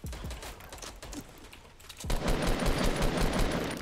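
Rapid automatic gunfire in the Fortnite video game, sparse cracking shots at first, then a dense, loud sustained burst of fire for the final two seconds.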